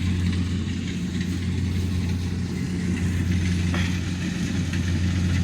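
A farm tractor engine runs steadily nearby during harvest, a low, droning mechanical hum with a constant throb and no clear revving.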